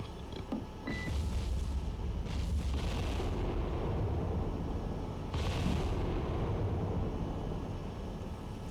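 Naval guns firing in the submarine game Cold Waters, heavy distant booms repeating at intervals over a constant low rumbling background, with no voices.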